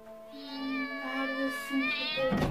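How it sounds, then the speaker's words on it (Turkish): A small kitten meows repeatedly, clear and fairly close, in a sustained rising and falling cry with several calls in a row and no talk over it. "Kedinin sesi buradan geliyor galiba"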